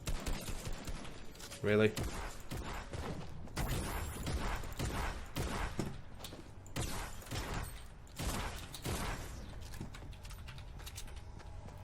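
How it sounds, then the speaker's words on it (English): Gunfire in the Fortnite battle royale shooter, heard as repeated sharp shots in irregular bursts across the whole stretch, loud and close, with a brief spoken word near the start. "I'll just keep shooting you"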